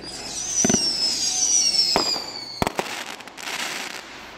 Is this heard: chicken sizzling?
no